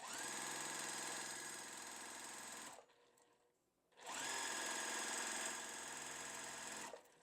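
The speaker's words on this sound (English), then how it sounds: "So what I'm going to do is take our F piece and sew it on to the corner." A sewing machine stitches quilt block fabric pieces in two steady runs of fast, even motor whirring and needle chatter, close and clear, separated by a short pause.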